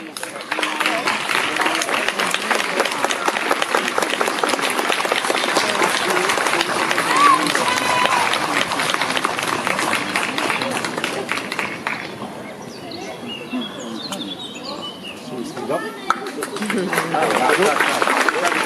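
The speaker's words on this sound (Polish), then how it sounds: "Wielkie brawa" An audience claps at an award ceremony closing a folk song festival, the applause sustained and fairly loud before thinning a little near the end, with some indistinct voices mixed in.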